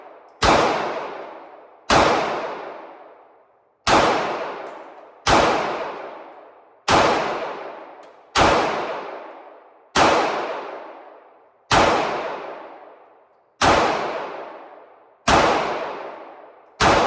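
Eleven sharp Glock 26 pistol shots fired with magazine extenders, spaced about every one and a half seconds at a steady pace, each a loud close crack with a fast-decaying ring and no talking.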